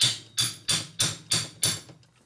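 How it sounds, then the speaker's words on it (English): A hammer strikes a wrench six times in an even rhythm, close and loud, tightening the base nuts on a 1965 Harley-Davidson Panhead 74ci FLH motor during a rebuild. Each strike is sharp and metallic and rings out before the next. "So that's called hammer torquing."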